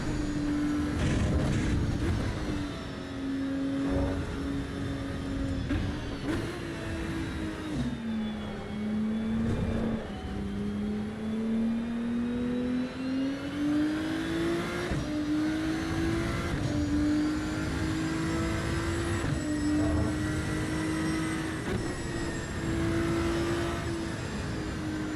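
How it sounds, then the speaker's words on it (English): Engine drone and gear changes of a racing car in the game Assetto Corsa EVO, with a steady rising and falling engine tone, gearshift dips and a constant rush of wind noise throughout, loud and close with no talking. "Listen to the wind noise and gearbox."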